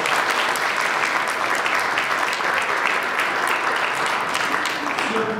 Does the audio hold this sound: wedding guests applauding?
yes